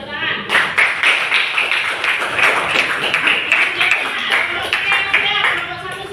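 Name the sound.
classroom clapping hands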